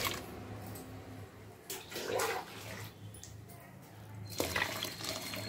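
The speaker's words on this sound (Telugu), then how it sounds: "ఇంట్లో నీళ్ళు ఎక్కువ వేయాలి" Water splashes and pours into a mixture for a herbal powder preparation, a continuous soft rushing with a few louder gushes, close by and fairly quiet, with no talking.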